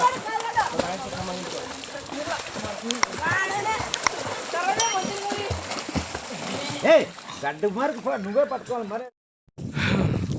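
Children swimming together outdoors on a hot summer day, with steady splashing and sloshing water throughout and lively kids' voices shouting and chattering over it, briefly dropping out near the end.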